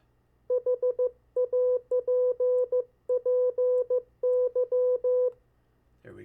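CW Morse practice tones at one clear, steady pitch send a short word as crisp groups of dots and dashes with brief gaps between letters, heard alone over a low hum, followed by a brief rustle at the end.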